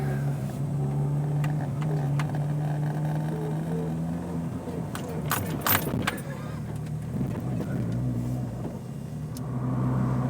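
A 420 bhp Renault Clio 172 Cup turbo with an aftermarket ECU is driven on an ordinary road. The engine drones steadily from inside the cabin, with loose keys jangling and brief rattles over the hum.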